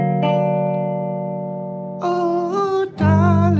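An augmented chord rings out on guitar, sustained and bright, then a second voicing is struck and a third chord follows, close and loud with a jazzy blues colour and no voices.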